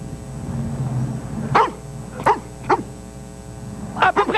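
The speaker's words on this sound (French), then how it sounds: "Soko, le berger allemand vivant" Soko, a German shepherd, gives several sharp barks in an irregular rhythm, close and loud, ending in a quick double bark, with no one talking over them.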